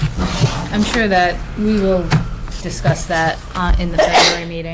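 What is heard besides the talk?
sneeze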